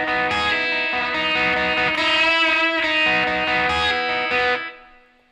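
A distorted electric guitar plays a repeating picked lead line from a song with chorus-like shimmer. It is loud and close and plays alone before ringing out and fading at the end.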